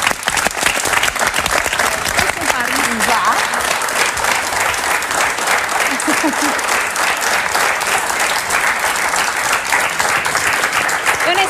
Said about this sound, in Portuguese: uma salva de palmas para o Luís